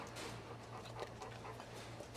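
Labrador dogs waiting for treats give soft, faint whimpers and breathy panting against a low steady hum, close but quiet and brief.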